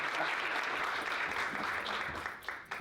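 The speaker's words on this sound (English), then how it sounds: "Let's give them a big round of applause" A seminar audience applauds in a dense, fairly loud burst of clapping that carries on for a few seconds and then thins slightly toward the end, with no voices over it.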